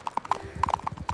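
A golden horse's hooves clip-clop in a quick, uneven rhythm, the sharp knocking strikes close and distinct against a faint background.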